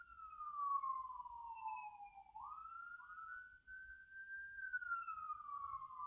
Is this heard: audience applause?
no